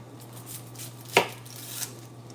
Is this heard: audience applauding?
no